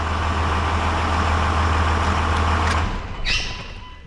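A Dodge truck engine runs with a steady low idle rumble close by for about three seconds, then cuts out, leaving a faint hiss and a brief higher squeal.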